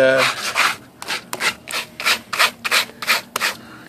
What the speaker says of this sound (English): So I'm just getting it scraped up real good.